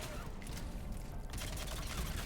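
Rapid bursts of gunfire crackle in a Mass Effect 3 combat scene, loud and dense, with a brief lull midway before the shooting resumes.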